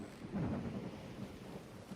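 Faint thunderstorm with a low, rolling rumble of thunder over a soft, steady wash of rain, distant and alone.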